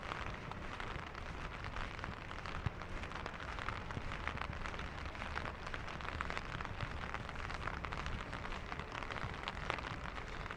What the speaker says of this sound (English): I'm going to give you a few minutes of ASMR with the rain